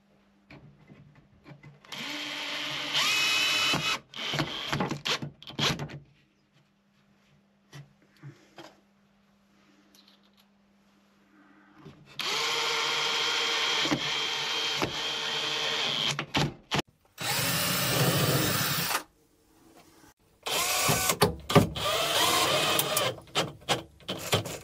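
A power drill drives screws into wooden slatted shelves in several short whirring bursts separated by pauses, close by and fairly loud.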